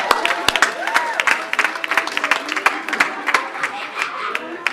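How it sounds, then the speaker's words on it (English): An audience at an Indigenous mental health conference claps along in a loose, uneven rhythm, with individual sharp claps standing out amid the crowd and some voices mixed in. "give us a clap, give us a clap."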